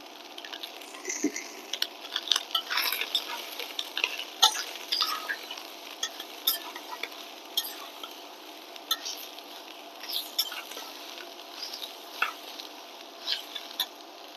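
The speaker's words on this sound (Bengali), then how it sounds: "এটা আমি 2 মিনিটের মতো এভাবে ভেজে নিব।" Cabbage and egg sizzle steadily in a pan with salt, red chilies and turmeric while a utensil stirs and scrapes, producing soft, irregular clicks over a quiet, constant frying hiss.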